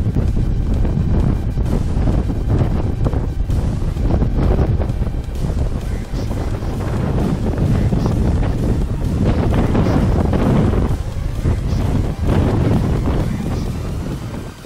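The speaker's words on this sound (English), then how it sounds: "The wind sounds even more angry than yesterday, if that's possible" Strong, relentless wind roars across exposed mountain tops in the Ruahine Range, buffeting the microphone loudly and almost continuously for the whole stretch, with only slight dips between heavy gusts.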